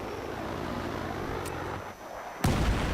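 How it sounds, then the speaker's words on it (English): A C4 charge detonating in Battlefield 3, with a sudden loud blast cutting in near the end after a stretch of steady rumbling battle ambience and a brief sharp crack earlier. "see what kind of explosion we get"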